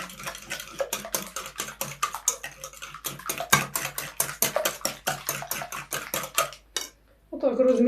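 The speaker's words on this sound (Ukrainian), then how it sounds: "І зараз яйця розмішую з сіллю." Two eggs beaten with salt in a bowl, a quick run of rhythmic utensil clicks and taps against the dish, close and steady, with a short pause before a final burst.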